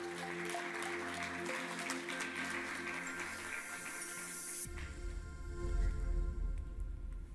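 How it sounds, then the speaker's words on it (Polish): Conference audience applauding a speaker at the GS1 Kod Innowacji 2024 event: a dense, steady wash of clapping over faint background music, cutting off abruptly into a low rumbling hum. "Bardzo dziękuję Państwu serdecznie za brawa."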